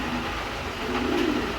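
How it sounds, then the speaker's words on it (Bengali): A pair of adult racing pigeons in a cage give a low, continuous cooing rumble, fairly close and steady, with no talking over it. "দেখেন কবুতর এখনও পর্যন্ত ওরা খাঁচায় পড়ে নাই, দিকে ছটফট করতেছে"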